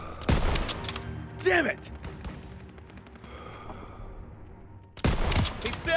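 Close bursts of gunfire from a Call of Duty: WWII battle, one sharp volley near the start, another around the middle and a heavy burst at the end, with combat rumble between and a shouted voice.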